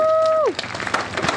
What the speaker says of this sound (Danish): Kan vi klappe af ham?